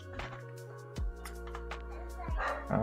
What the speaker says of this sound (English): my dog is barking in the background